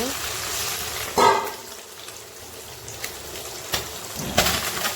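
Puti fish sizzling in hot frying oil, a soft continuous crackle with a few brief louder spatters, heard close under someone speaking.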